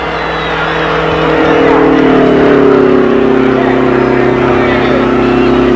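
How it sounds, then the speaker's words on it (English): Jim Hurtubise's Mallard front-engine roadster, the last roadster at the Indianapolis track, pulls out during qualifying with a loud, close engine drone that rises steadily in pitch as it accelerates, with a commentator talking over it. "Now there goes Hurtubise out onto the track, trying to hold up this qualification."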